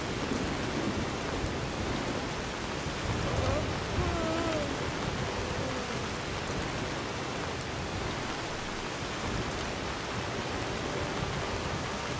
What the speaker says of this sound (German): Ich höre nur den Regen plätschern.